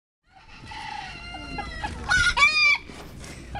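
Farm rooster crowing once nearby, a loud drawn-out cock-a-doodle-doo that rises to a strained peak before trailing off, with some faint clucking around it.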